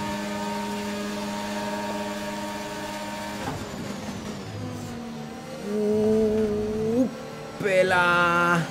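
An F1 race car engine in the F1 2021 video game at Spa, with a faulty engine, whines at high revs, then drops and climbs again in rising and falling sweeps, loud and up close.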